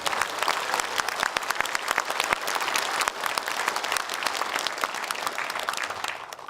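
Sustained audience applause at a book concert for a Cheongju mayoral hopeful, dense steady clapping from a large indoor crowd that holds without a break from start to finish.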